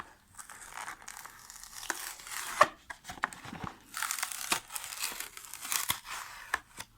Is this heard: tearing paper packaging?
yes